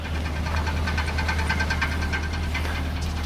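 A truck engine runs with a steady low rumble and a rapid, rhythmic knocking tick over it, continuous and fairly close.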